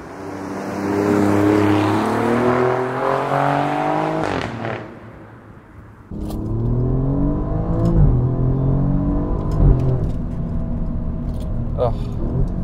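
Alfa Romeo Giulia Quadrifoglio driven on roads in the Douro region, its engine revving hard through rising gear pulls during an overtake, with a short lift around the gear change and then strong acceleration again, loud and close, with a voice speaking over it.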